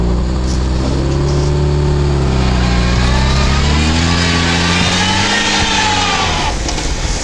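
Lada Niva engine revving hard while one rear wheel on mud tires spins freely in mud, a loud sustained drone that rises and falls in pitch, close and alone.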